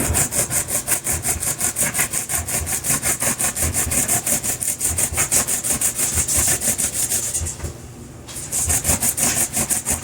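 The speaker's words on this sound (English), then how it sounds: "when you're using a box grater" Zucchini scrapes rhythmically against a box grater in quick, even strokes, a loud raspy back-and-forth that pauses briefly near the end before resuming.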